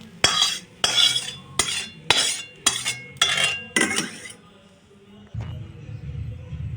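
Fried shrimp being scooped from a pan into a dish, a spoon or spatula scraping and clinking against metal in about eight regular strokes, followed by a low sizzle of oil.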